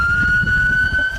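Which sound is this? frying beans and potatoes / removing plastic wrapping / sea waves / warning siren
warning siren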